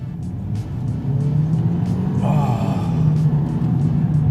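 A 2015 Mercedes-Benz C200 (W205) 2-litre engine hums at a low idle, then revs up strongly and holds a loud rumbling drone, with some clicking noises on top.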